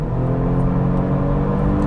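A 2022 Genesis G70 3.3T rear-wheel-drive sport sedan accelerates hard at highway speed, its engine a loud, steady, rising drone mixed with road and wind noise throughout.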